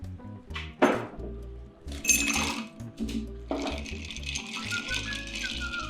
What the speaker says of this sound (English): We're just going to stir this until it's cold.